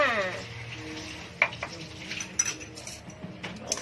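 Silkworm pupa larb being mixed with seasoning powder and lime juice, a spoon scraping and clinking against a bowl in irregular strokes, with soft rustling of the mixture between the knocks.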